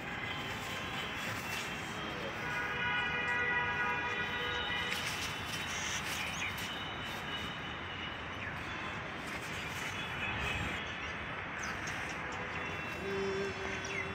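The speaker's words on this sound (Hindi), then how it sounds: "देखिए मेट्रो जा रही है" A metro train rumbling past at a distance, a steady, fairly faint roar with a rising whine, holding evenly throughout.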